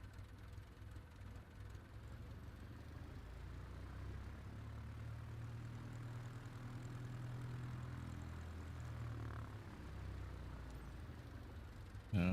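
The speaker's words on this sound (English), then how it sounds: "X-Ray Hotel Golf taking off runway 10 departure to the west" An aircraft in Microsoft Flight Simulator 2024 rolls down runway 10 for takeoff, its engine a steady, full low drone with a broadband rush that holds evenly throughout, no voices over it.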